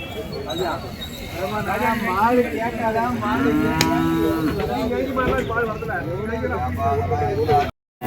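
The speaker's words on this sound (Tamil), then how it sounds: "ஸோ ஒரு காரியில் ஒரு கன்று இருக்குது பாருங்கள்" A calf at the Orappam cattle market gives one long, loud moo in the middle, with people talking around it and market chatter going on.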